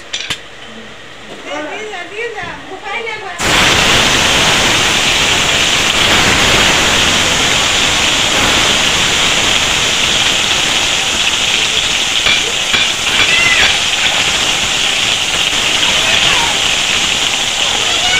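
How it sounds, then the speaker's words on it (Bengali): Katla fish pieces, coated in salt and turmeric, frying in hot mustard oil: after a quieter opening with a voice, a loud continuous close sizzle and crackle fills the rest. "এক পিস মাছগুলো ভেজে নিয়েছি আর এক পিস উল্টিয়ে দিয়েছি।"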